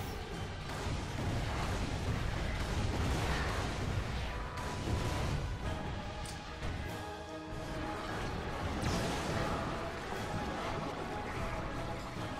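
Repeated heavy booming blasts of cannon fire in Ratchet & Clank: Tools of Destruction crash over a dense rumbling background of loud continuous noise with no talking.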